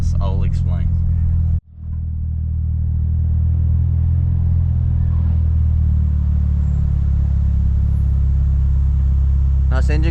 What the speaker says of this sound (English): Nice engine crank.